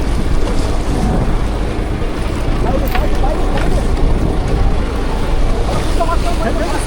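Large storm waves crash and surge around a fishing boat out at sea during pomfret fishing, a loud continuous roar of water with heavy wind buffeting the microphone and voices of the crew shouting underneath.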